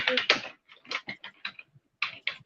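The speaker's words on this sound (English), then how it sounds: "you're typing." Computer keyboard typing heard as clustered bursts of clicky keystrokes, fairly close and moderately loud, with short pauses between runs.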